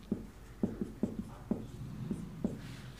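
A pen writing a maths solution by hand on paper, soft tapping and scratching strokes in a loose rhythm of about seven ticks, close and quiet with no talk.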